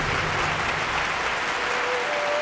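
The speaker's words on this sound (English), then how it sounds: "The Taiwanese crowd gives the troupe all the support they need." A Taiwanese crowd at a troupe's performance claps and cheers steadily, a dense, loud wash of applause sustained throughout with no pauses and no distinct voices.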